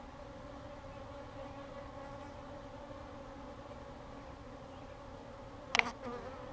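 Honeybees hum steadily during a hive inspection at a bee farm, with the buzz close and continuous and a short sharp knock near the end.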